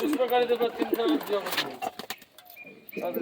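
Madras pigeons coo in low, rolling calls close by, mixed with bird chirps, while someone talks over them throughout the short stretch.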